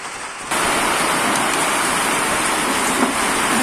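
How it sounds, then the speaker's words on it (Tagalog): Heavy rain pours down outside a home kitchen, starting suddenly as a loud, dense, steady roar of hiss that holds unbroken to the end. "Lakas ng ulan."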